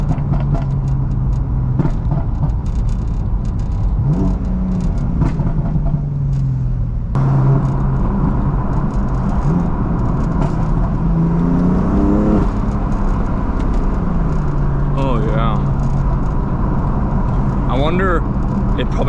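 BMW M4 driving and accelerating, a continuous engine drone that rises and falls in pitch through gear changes, with a person talking over it throughout.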